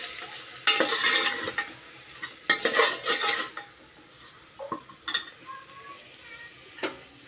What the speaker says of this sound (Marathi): आता आपण हे सर्व मसाले त्यात घालूया, तेही छान परतून घेऊया।